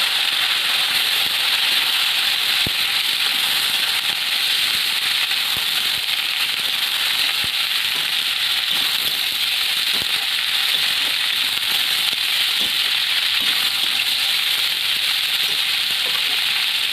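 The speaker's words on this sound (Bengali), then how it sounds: "এবারে বাঁধাকপিগুলো দিয়ে লাল লাল করে ভেজে নেব।" Cabbage frying in oil in a pan, following potatoes fried until reddish for a rohu fish curry; a steady close hiss and crackle of sizzling runs unbroken throughout, with no talk.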